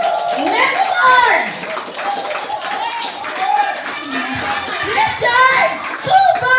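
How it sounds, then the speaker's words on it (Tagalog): An audience applauds a speaker, with steady clapping mixed with cheering voices and excited crowd calls throughout, fairly loud and close. "At milyong-milyong palakpak para sa ating speaker!"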